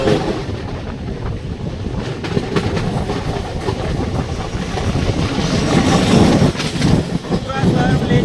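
The Kalka–Sainagar Shirdi superfast train rumbles heavily around a curve, heard from inside a coach as a loud continuous roar with rhythmic wheel clatter and metallic squeals, and a voice speaks over it at times.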